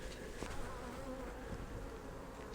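Honey bees buzz at an opened beehive during a nectar flow, a dense, continuous swarm drone with faint nearby wingbeats, fairly quiet and with no voices.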